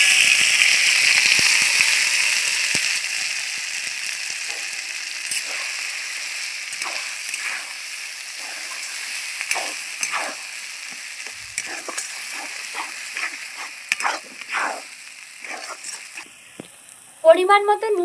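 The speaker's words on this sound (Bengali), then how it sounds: "তেলের মধ্যে সামান্য একটু হিং দিয়ে দিচ্ছি, পেস্ট করা মটরশুঁটিটা দিয়ে দিচ্ছি" Pea paste dropped into hot oil with a pinch of asafoetida gives a loud, steady frying hiss that slowly eases, broken by soft stirring clicks and scrapes, with a brief sharp clatter at the end.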